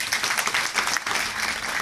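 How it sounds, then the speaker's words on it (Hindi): Brief burst of audience clapping in a classroom-style gathering, quiet and somewhat distant, steady throughout with no voices. "तो खुद के लिए तालियां बजाओ"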